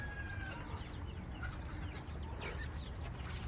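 A pet house chicken named Pigeon, kept in a converted playhouse with other birds, clucks and murmurs softly at close range, with a brief louder squawk near the end and a steady background hum.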